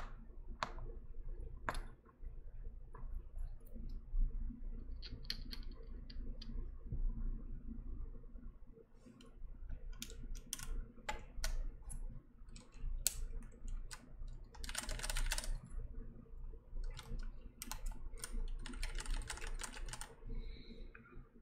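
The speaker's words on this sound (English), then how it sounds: "I'm gonna check the other enter keys" Computer keyboard fitted with DSA Legacy keycaps being typed on, a steady run of close clicking keystrokes with a few louder clacks, heard alone over a low background hum.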